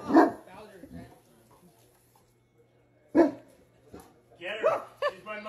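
A giant puppy barks in several separate bursts at a house, loud and close, with quieter stretches between and people talking around the barks.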